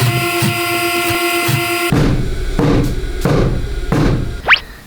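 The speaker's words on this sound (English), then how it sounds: "Sewing machine on." A sewing machine runs a basting stitch through blanket fabric in rhythmic bursts, with mechanical whirring and a brief squeak near the end.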